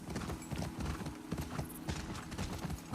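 A horse gallops in The Last of Us Part 2 video game, its hooves clip-clopping in a quick, steady rhythm over a dense background, with a faint whinny.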